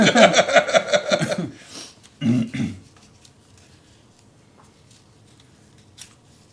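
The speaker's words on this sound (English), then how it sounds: "these dollar store safety scissors are not cutting it" Cheap dollar store safety scissors snip rapidly in a quick series of close strokes, then give a short second burst before things fall nearly silent apart from a faint click.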